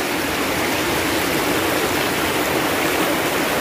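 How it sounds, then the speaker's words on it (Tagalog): Strong river current rushing steadily while people wade across, a dense, continuous broadband roar of flowing water, close and loud throughout with no voices. "Malakas lang yung agos mga kaigala."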